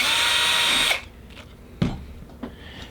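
A power drill bores through a plate during a Flite Test ElectroHub Y6 multirotor kit build, one loud, steady whir lasting about a second, then stopping. A few sharp clicks and knocks follow as the tool is handled.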